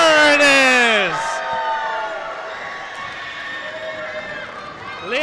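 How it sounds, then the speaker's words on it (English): A men's basketball crowd roars after a basket. High shrieks and whoops open it loudly, then it settles into a sustained cheering wash and rises again at the end. "that gets a roar from the crowd"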